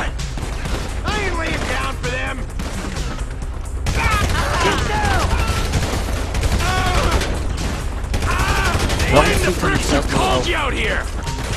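Bursts of video game gunfire from GTA 5 rattle through a chaotic street shootout, with repeated rapid shots mixed under excited shouting voices throughout.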